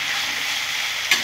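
Ghugni, a yellow pea curry, sautés with tomato puree in a pan, giving a steady close sizzle with one brief stirring scrape near the end.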